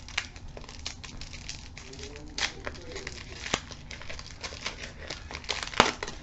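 Handmade lollipop wrappers are unwrapped with soft, close crinkling and crackling paper sounds, quiet and irregular, punctuated by a few sharper rustles.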